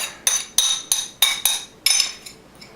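A metal spoon scraping and knocking food out of a pan, a series of about nine sharp clinking scrapes at a steady rhythm, close and fairly loud with no talk.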